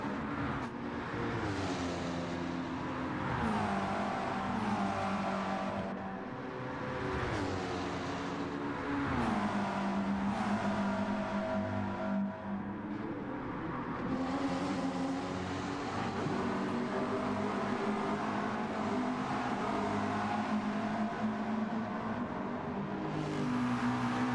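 Race cars in Gran Turismo 7 during an online constructors' race at Orosei, two McLarens chasing a Porsche, with steady loud engine drone and rising, falling revs as gears shift, continuous throughout.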